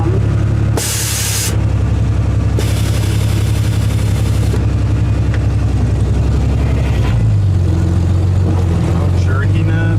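A 1964 Chevrolet C-10 pickup's inline-six engine, fitted with FiTech 30003 fuel injection, runs as a low, droning tone while the truck drives. Short hissing bursts and other noises cut in, and voices are heard.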